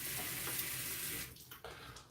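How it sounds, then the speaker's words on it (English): Water from a tap running into a soap dish during a shave lather, a steady near splashing stream that breaks up into quieter, uneven trickles near the end. "I'm just a fan of putting water right into the soap dish, and you can see it splashing around in there"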